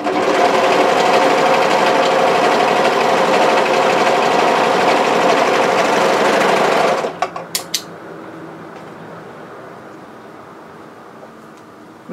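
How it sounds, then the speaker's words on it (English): Sewing machine running a steady, loud seam along striped sweatshirt pieces for several seconds, then stopping with a few clicks and quiet handling afterward. "we're going to sew a seam on both pieces, right sides together"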